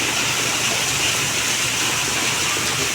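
Heavy rain pours down in Bengaluru, a steady, dense rush of water that holds at the same loud level without a break and sounds close at hand.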